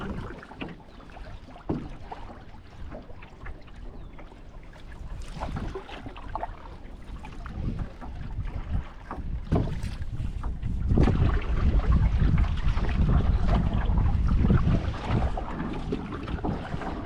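Water laps and knocks against the hull of a paddled canoe on Minnow Pond near Atikokan, a close, uneven sloshing with occasional paddle splashes, under gusty wind buffeting the microphone and growing louder toward the end.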